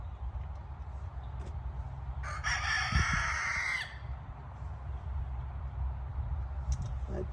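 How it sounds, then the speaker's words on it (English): A rooster crows once, a single bright, fairly distant call rising over a quiet outdoor farmyard background. "I guess that Mr. Rooster ate the other eggs"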